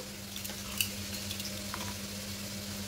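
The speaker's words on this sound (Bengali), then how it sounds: "এবার পেঁয়াজটা দিয়ে লাল লাল করে ভেজে নেব।" Onions frying in a pan for chicken malai curry, a soft steady sizzle with faint crackles and one small tap, low and continuous with no talking.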